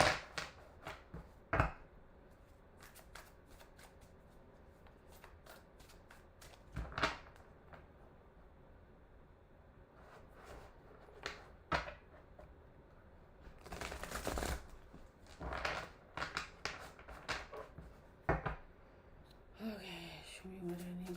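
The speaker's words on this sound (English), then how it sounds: "That's why I shuffle the cards like that." A deck of tarot cards is shuffled in a series of short, crisp riffling bursts spread through a quiet room, some louder than others, with pauses between them.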